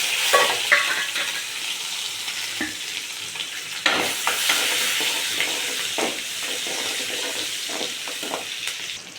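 Mustard seeds and small shallots sizzle loudly in hot oil for a tempering, with a dense continuous crackle and sharp bursts of spattering and stirring.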